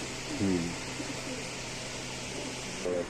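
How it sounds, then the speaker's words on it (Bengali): Pigeons at a busy pigeon market give two short, low cooing calls near the start and end, heard against a steady, loud background hum of the crowded market. "এখানে আছে এক জোড়া কবুতর দেখতে পাচ্ছেন"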